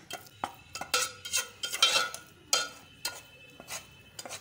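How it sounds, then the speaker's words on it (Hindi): A metal spoon scrapes and knocks against a pan as besan is stirred and roasted over low heat, making a series of irregular clinks and scrapes, close and moderately loud, with no talking. "इसे भूनते हैं हल्की आँच पे ना।"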